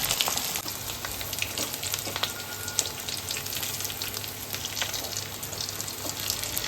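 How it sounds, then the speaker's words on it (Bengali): Potatoes fry in hot oil in a kadai for a vegetarian jackfruit biryani, giving a steady, close, crackling sizzle with small pops throughout. No talking is heard. "কড়াইতে তেল দিয়ে বিরিয়ানির আলুগুলো একে একে আমরা ভেজে নেব।"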